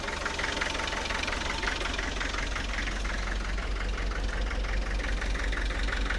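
A Land Rover 90 engine, just restarted after a long-stored refurbishment, idles steadily with a dense, even low rumble and a faint rhythmic knock, close and continuous with no talking.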